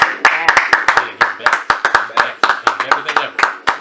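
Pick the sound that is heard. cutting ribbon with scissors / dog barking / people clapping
people clapping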